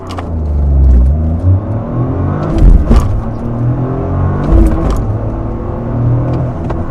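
A Toyota GR Corolla with a manual gearbox accelerates hard through a 0-60 run, its engine roaring loud and close. The revs climb in surges, broken by brief gear-shift dips around the second and fifth seconds.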